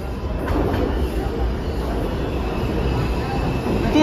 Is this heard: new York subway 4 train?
yes